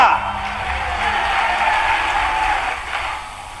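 A large crowd claps and cheers at a political rally in Shahjahanpur addressed by Chief Minister Mohan Yadav. The applause is loud, dense and sustained, with a steady roar that eases slightly toward the end.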